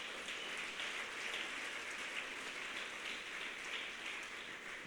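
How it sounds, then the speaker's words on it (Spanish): Congregation applauding the Lord during a church sermon, a steady dense clapping that fills the room evenly and continuously for several seconds at a moderate, slightly distant level. "Dale un aplauso al Señor"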